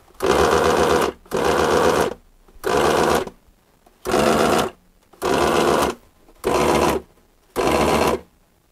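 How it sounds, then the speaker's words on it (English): Moulinex Masterchef food processor motor spinning but not engaging the bowl, switched on and off in seven short bursts of loud whirring separated by brief silences, with no speech. "The motor is making it turn, but it isn't engaging for some reason."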